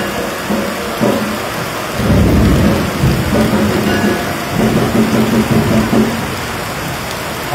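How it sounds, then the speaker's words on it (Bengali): Heavy downpour over Dhaka city, a dense continuous roar of rain with deep rolling thunder rumbling through the middle, loud and steady without speech. "ব্যস্তনগরের রাজধানী ঢাকাতে মুষলধারে বৃষ্টি চলছে"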